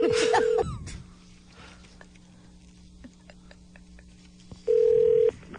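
A steady electronic phone ring tone sounds at the start, then a quiet pause with faint clicks, and the ring tone returns near the end.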